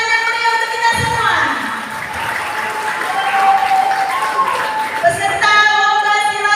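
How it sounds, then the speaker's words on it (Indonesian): An audience at a Betawi silat competition festival held by Bamus Suku Betawi 1982 breaks into loud, sustained clapping and cheering, with a voice speaking at the start and end. "Beri tepuk tangan yang meriah untuk kita semua."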